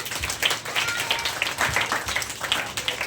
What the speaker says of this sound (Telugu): క్లాప్స్ కొడదామా